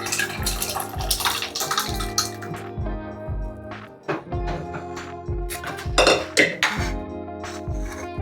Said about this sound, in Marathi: तर ही आमटी मी अशी मस्त टाकून घेते त्याच्यामध्ये